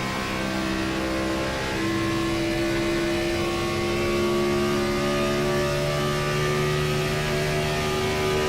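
A race car engine in an IROC Challenge racing video game at Las Vegas drones loudly and continuously, its pitch shifting slightly as the throttle eases, with no voices.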